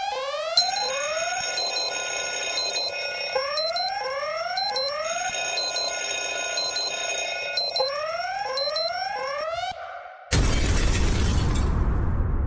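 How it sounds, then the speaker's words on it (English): An alarm sound effect rings out loud and steady, a rapid repeating electronic ringing pattern for about ten seconds, then cuts off into a sudden crashing burst. "go ahead and hit the alarm"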